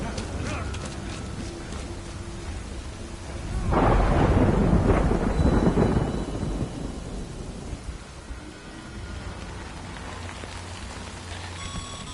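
Thunder rumbles through a rainstorm in the video game Death Stranding, a broad roll swelling midway over a steady hiss of rain, with no voices.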